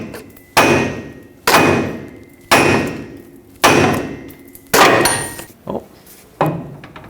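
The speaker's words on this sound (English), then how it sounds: "hammer right on the end of the Pitman arm and the vibrations should break this free" Heavy hammer blows strike the end of a steel steering pitman arm on a Ford F-350 about once a second, each a loud ringing clang that decays, with a few softer knocks near the end.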